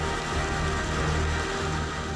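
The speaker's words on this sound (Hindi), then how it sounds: "हैदराबाद में पिछले 24 घंटे में हुई तेज बारिश ने हालात ये बना दिए हैं" Heavy rain pours steadily in Hyderabad, a dense, even hiss that holds without pause for the whole stretch, loud and close, with no voices.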